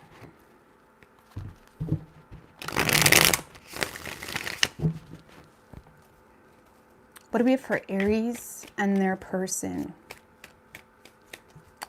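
Tarot cards being shuffled in a few quick riffling bursts, crisp and close, with someone speaking between them.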